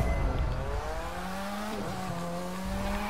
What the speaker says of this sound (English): Let's go hard and do some drifting.